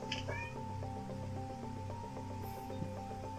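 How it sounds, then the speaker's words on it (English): A pet cat meows near the microphone, a short rising cry at the start, with a low steady hum running underneath. "I heard a meow."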